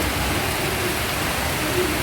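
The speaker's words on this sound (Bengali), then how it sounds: "প্রচুর জোরে বৃষ্টি পড়ছে একদম ঝমঝম করে বৃষ্টি পড়ছে" Heavy rain pours down in a loud, dense, unbroken roar of drops hitting surfaces, close and steady throughout with no voices.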